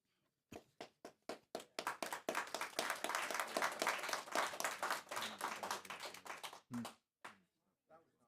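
Audience applause breaks out at a Chino Valley town planning and zoning meeting, starting with a few scattered claps, swelling into steady clapping for several seconds, then dying away to a few last claps.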